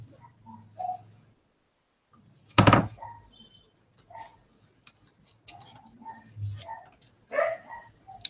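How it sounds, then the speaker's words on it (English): Dogs barking and yapping indoors in scattered bursts, one loud close outburst among fainter intermittent yelps and clatter, with no talk. "And that's my dogs."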